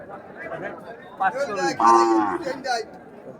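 A cow gives a drawn-out, low moo amid a noisy crowd at a Qurbani cattle market, with people chattering around it throughout.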